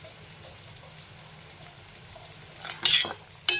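A spoon stirs tomato soup in a pot, soft scraping and sloshing, then a louder burst of sizzling splashes near the end.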